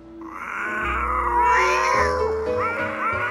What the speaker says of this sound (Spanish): De maullidos.